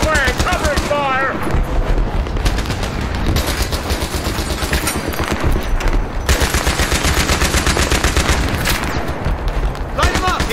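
Battlefield 3 combat erupts with loud, sustained machine gun fire, rapid bursts rattling almost without pause over a dense wash of battle noise, while soldiers shout over the din.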